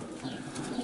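Soft racing pigeon cooing murmurs at close range from breeding cages with young birds, steady and low, with faint rustling and background noise throughout.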